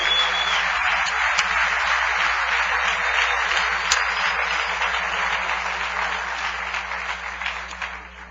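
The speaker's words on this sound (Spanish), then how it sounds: "Denle un aplauso bien fuerte al Rey." A church congregation applauds loudly for the King during a sermon, a dense, continuous wash of clapping that holds strong before gradually tapering off toward the end.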